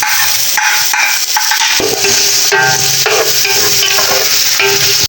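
Ginger garlic paste with onions fries in a pot for a Lahori beef bong dish, a loud steady sizzle with bursts of spoon scraping and stirring, and no talking.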